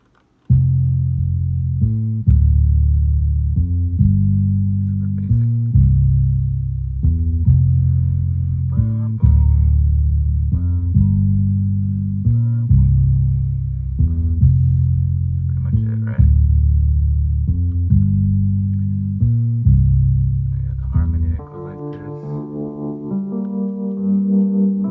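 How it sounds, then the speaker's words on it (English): A funky bass line built in FL Studio plays alone, looping in a regular rhythmic pattern of punchy low notes, loud and clean, shifting to a sustained higher phrase toward the end. "I mean, we could hear the bass line by itself."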